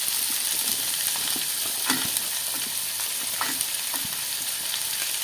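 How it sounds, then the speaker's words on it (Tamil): Onions frying in a pan for mint chutney, a loud, dense, continuous sizzle heard up close, with occasional soft clicks and scrapes from stirring and no voices. "அடுத்தது நம்ம வெங்காயத்தை போட்டு வதக்கிடலாம். வெங்காயத்தை இதில் கொட்டிடுங்க. நல்லா வதக்கிடலாம்."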